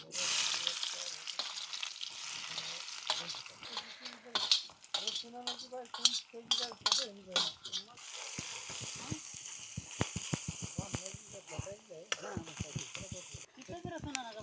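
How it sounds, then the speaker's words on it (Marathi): Onion drops into hot oil with cumin and mustard seeds and fries with a crackling sizzle, while stirring clatters against the pan and a voice talks over much of it, close by. "आता ह्यात कांदा टाकायचा"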